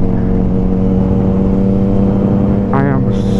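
A Yamaha MT-09 motorcycle with an Akrapovic exhaust rumbles steadily at idle nearby, a loud continuous low drone with a brief rising rev or squeal near the end, voices talking over it.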